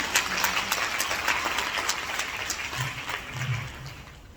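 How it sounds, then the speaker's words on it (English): An audience at a women's conference applauds an honoured doctor, a diffuse, sustained clatter of many hands from a crowd in a hall, moderately loud and fading slightly toward the end. "Can we have a round of applause for Dr."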